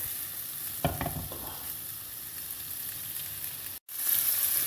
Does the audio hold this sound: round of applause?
no